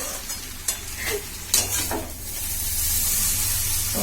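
Chowmein and jhuri bhaja fry at a street food stall, with a steady frying sizzle that swells louder and a few sharp clanks of utensils against the pan, with no talk.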